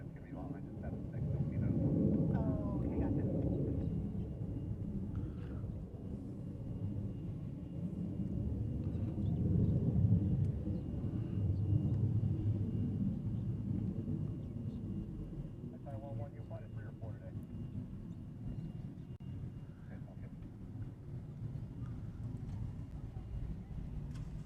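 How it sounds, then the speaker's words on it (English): A Boeing KC-46 Pegasus approaches Honolulu airport, heard as a steady, fairly distant jet rumble that swells and eases over about twenty seconds with low background noise. "We have a KC-46 Pegasus heading down here as well."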